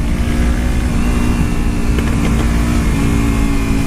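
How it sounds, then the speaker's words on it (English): A motorcycle engine downshifting on a twisty road with tight turns, a loud, steady mid-pitched drone running throughout with slight shifts in tone and no voices. "Let me downshift a little bit."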